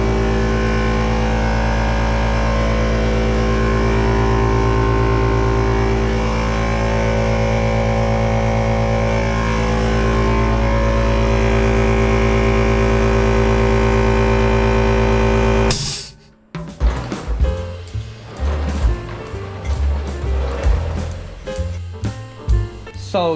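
A Predator oil-free air compressor with a vertical tank runs with a loud, steady droning hum, then abruptly shifts to a rougher, clattering sound near the end.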